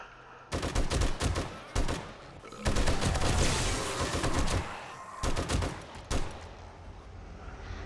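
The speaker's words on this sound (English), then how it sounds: "Oh, the turret just shot another one, look at that." An automated turret fires at vultures in the survival game 7 Days to Die during a day 70 blood moon. Loud rapid bursts of gunfire come in several long volleys with short pauses between them.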